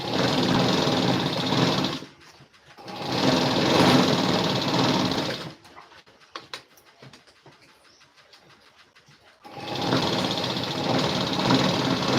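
Sewing machine stitching a boat neck blouse, running in steady continuous bursts of a couple of seconds each, with a quiet gap in between that holds faint clicks and handling noises, close and fairly loud.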